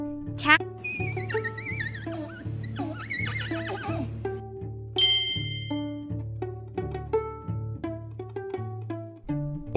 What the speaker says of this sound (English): What sound do you think a foal makes?